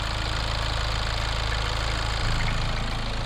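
A Kia Sportage The Bold engine idles steadily close by, with a low, even rumble and a regular knocking pulse and no talking.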